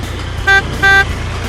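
A blue tractor on a farm sounds its horn in two short, loud toots, with a steady engine-like hum underneath.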